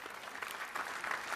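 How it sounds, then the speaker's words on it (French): Audience applause at a French social-policy congress round table, steady mid-level clapping from a seated crowd filling the whole stretch without a voice over it. "on peut applaudir"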